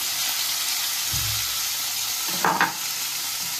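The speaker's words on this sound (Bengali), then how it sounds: "সবগুলোকে একটু এর সাথে নাড়াচাড়া করে ভেজে নিচ্ছি।" Cumin and chili powder sizzle and are stirred together in hot oil while cooking. A steady, close frying hiss runs throughout, with a few brief scraping stirs partway through.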